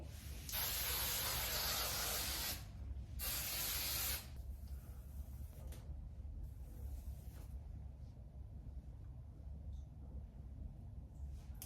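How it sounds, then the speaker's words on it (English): Tresemme hairspray from an aerosol can, fired in two loud, close, sustained bursts lasting a couple of seconds each, then quiet room tone with faint rustling. "Hairspray, Tresemme."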